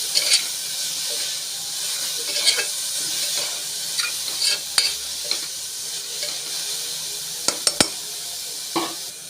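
Carrots with salt, turmeric and asafoetida fry in a pan as a spoon stirs them, giving a soft continuous sizzle broken by scattered clinks and scrapes against the pan.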